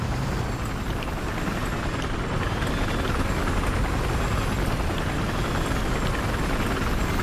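A helicopter in Battlefield 4 roars continuously with a dense, steady rotor and engine drone, loud and close throughout with no pauses.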